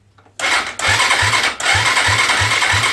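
A Suzuki DR200S motorcycle cranks with a sharp starter whine, briefly drops, then catches and runs with a steady loud rasp, low rhythmic pulses throbbing underneath at about three per second.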